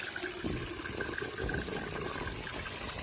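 A cow drinks water from a bucket, a steady, fairly quiet wash of sloshing water with no voices.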